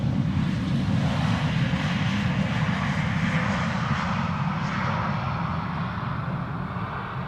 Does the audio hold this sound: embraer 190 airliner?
yes